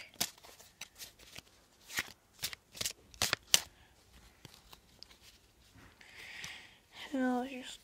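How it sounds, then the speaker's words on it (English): Crisp riffling bursts of playing cards being shuffled, several quick snaps in a row, then a longer cascading riffle near the end, close up. "shuffle it in the deck"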